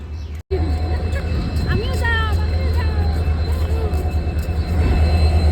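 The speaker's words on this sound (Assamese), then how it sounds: "এইখন আমাৰ ট্ৰেইন এতিয়া 8:30 বাজিবলৈ" A passenger train carries a steady low rumble and rolling hum from the inside, loud and continuous, with a brief dropout near the start and faint squeals over the drone.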